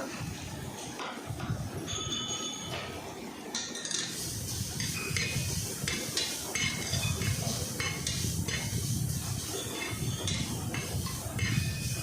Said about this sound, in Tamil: சேர்த்துட்டு நல்லா கிளறி விட்டுக்கோங்க